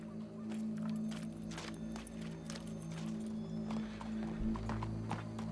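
Horse hooves clip-clop in Red Dead Redemption 2, a steady run of hoof strikes over a constant low hum of game ambience, with a heavier thud toward the end.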